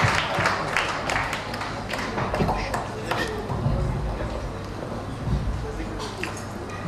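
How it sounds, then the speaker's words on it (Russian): Applause from a concert audience in Riga, steady broadband clapping with crowd noise filling the whole stretch, loud and close, with a voice heard over it. "Аплодируйте. Аплодируйте, Рига."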